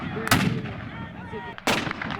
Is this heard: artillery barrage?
yes